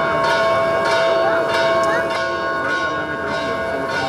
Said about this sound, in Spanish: las campanas en todos los templos católicos del país se hicieron sonar